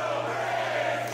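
Wrestling crowd at an AR Fox versus Carmelo Hayes style indie match, cheering and chanting in a steady, dense roar split between two wrestlers, filling the arena without pause.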